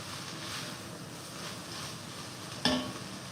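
Red curry chicken stirred in a pan gives a soft, steady sizzle and scrape, with one sharp utensil clack against the pan near the end.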